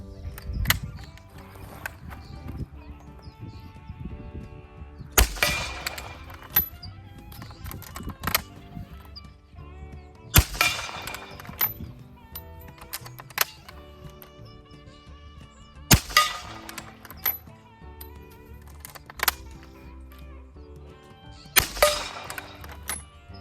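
Trapdoor rifle fired at an outdoor range, four loud sharp reports spaced roughly five seconds apart, each ringing briefly, with quieter handling clicks and thumps in between.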